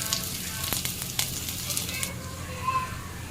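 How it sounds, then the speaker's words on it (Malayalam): Ingredients for Kerala banana flower thoran sauté in a pan with a steady close sizzle and a few stirring scrapes, while a voice talks over the frying. "അതൊന്ന് വഴറ്റിയെടുക്കാം. നന്നായിട്ടൊന്ന് വഴന്ന് വരുമ്പോൾ"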